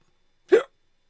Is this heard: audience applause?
no